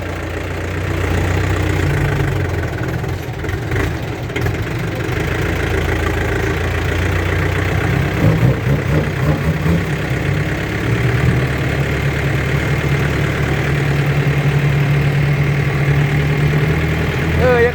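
A tractor engine idles steadily and fairly close after a storm, a continuous low rumble with a faint knocking texture running the whole time, with occasional voices nearby.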